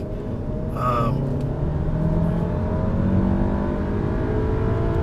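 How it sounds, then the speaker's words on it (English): Engine of a 2017 VW Golf Alltrack S with the 1.8T turbo four, 4Motion all-wheel drive and DSG gearbox, droning steadily from inside the cabin as the revs climb, a short tonal whine near the start. "Rev it out a little bit more."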